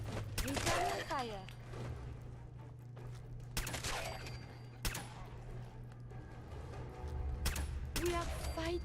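Scattered shots from an automatic laser pistol and other weapons in Fallout 4 crack out a few at a time during a firefight, sharp isolated bursts over a low hum with voices in between.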